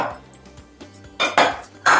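A utensil clinks and scrapes against a dish while chocolate chip muffin batter is mixed, with soft knocks at first, then louder scraping strokes near the end.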